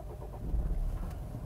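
A 2019 VinFast Lux A 2.0 Premium car engine starts inside a showroom, a brief low rumble that swells and settles quietly, heard from the cabin.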